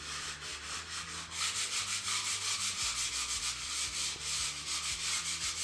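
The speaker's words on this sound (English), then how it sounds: "we've filled it, and now we're going to sand it" Close, rhythmic rubbing strokes of hand-sanding filler on a paint repair, a steady back-and-forth scratchy hiss repeating about twice a second.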